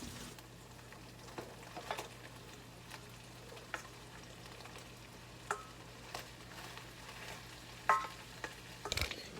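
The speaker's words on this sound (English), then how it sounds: "The goal here is just to mix up everything in the pan with your pasta" Pasta with tuna and garlic being stirred in a pan of hot oil, a soft steady sizzle broken by scattered scraping stir strokes and a few sharper clinks near the end, no talking.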